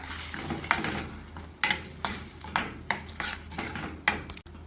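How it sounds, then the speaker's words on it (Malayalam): A utensil scrapes and clinks against a pan in repeated strokes while paneer vindaloo gravy sizzles steadily underneath, close and fairly loud. "ഇതിന് 1 മിനിറ്റ് ഇളക്കി വഴറ്റാം."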